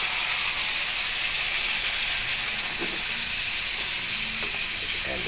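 Shrimp and bottle gourd (upo) cook in a pot for a Filipino soup, giving a steady, even sizzling hiss that holds for the whole stretch, with a few faint clicks near the end.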